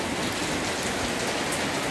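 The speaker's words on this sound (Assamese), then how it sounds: "আৰু বৰষুণ আৰম্ভ হৈ গ'ল" Steady rain falls close by after a devotional Bhagavat reading gathering, a dense, even patter that continues throughout with no voices.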